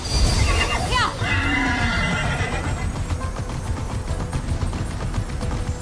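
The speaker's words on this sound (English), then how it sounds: "Come back to me, Pegasus" Pegasus, the winged horse in the video game Immortals Fenyx Rising, gives a loud shrill neigh followed by clip-clopping hooves and game sound effects, with a player talking over it.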